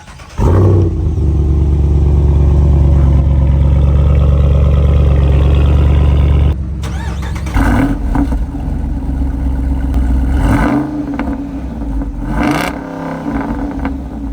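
A Jeep Wrangler Rubicon 392 V8 revs up into a loud, deep, raspy roar, held for several seconds, then drops back and rumbles on at a lower, uneven pitch close by.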